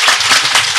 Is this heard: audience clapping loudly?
yes